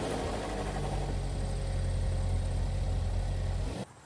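A Chevy Equinox with a rusted-out frame idles nearby, its engine a steady low rumble and hum that holds evenly before cutting off abruptly near the end.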